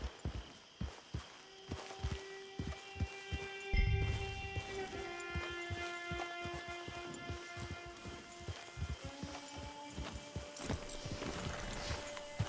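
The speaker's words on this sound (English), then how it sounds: "Get your horse" Horse hooves in Red Dead Redemption 2 clop steadily and close at a walking rhythm for about twelve seconds, with a sustained tonal musical backdrop underneath.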